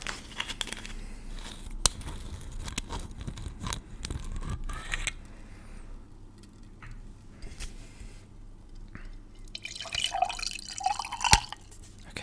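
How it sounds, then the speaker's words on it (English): Alcohol is poured into a glass up close in a quiet whispered setting, with gentle liquid trickles and drips, small clinks and handling sounds, soft and intimate. "I said a little bit, but I might have to finish this later because I poured too much."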